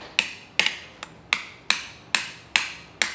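A hammer taps a handmade copper coffee scoop in eight sharp metallic strikes at a steady rhythm, each a bright ringing tick that decays quickly, close and alone without talk.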